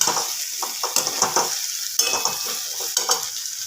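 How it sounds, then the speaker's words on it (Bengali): Cauliflower and potato pieces stirred with spices in a hot pan for doi fulkopi: repeated close scraping strokes of a spoon in an uneven rhythm over a continuous frying sizzle, no voices. "ভালো করে মশলার সাথে মিশিয়ে নিতে হবে"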